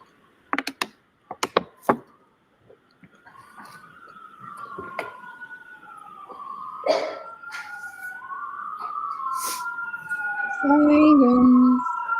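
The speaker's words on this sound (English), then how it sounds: "Sirens." Wailing sirens rise and fall across the middle and end of the clip, after a few sharp clicks and taps at the start, with a low tone near the end.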